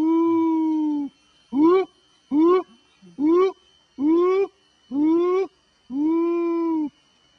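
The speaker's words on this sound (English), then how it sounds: "That's the sound of the orangutan male, adult male." An adult male orangutan in the Gunung Leuser jungle gives a loud, close series of about seven drawn-out, wavering howling calls, evenly spaced with short pauses between them.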